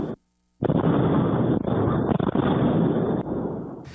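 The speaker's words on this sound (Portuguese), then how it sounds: "O barulho das explosões foi registrado por essa câmera de monitoramento." A surveillance camera in Palotina, Paraná, captures an explosion: after a brief silence, a loud, dense roar of blast noise starts abruptly and rumbles on for about three seconds before easing.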